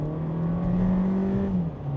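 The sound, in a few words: SEAT Ibiza FR 1.5 liter four-cylinder engine accelerating loudly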